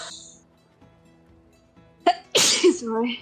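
A single sharp, close sneeze after a quiet moment, followed by a brief vocal sound trailing off.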